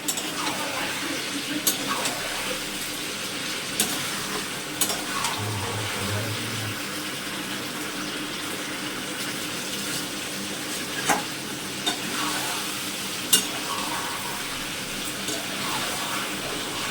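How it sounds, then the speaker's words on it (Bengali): Mutton pieces with large cut potatoes being stir-fried (kosha) in a pan, a continuous sizzle with occasional stirring clinks and scrapes, a voice talking faintly in the background. "তো মাংস কষানো কমপ্লিট"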